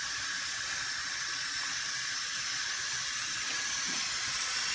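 Water drains and runs through sprouting barley fodder being rinsed in a tray, a steady soft hiss of trickling water that continues alone and unbroken for a few seconds.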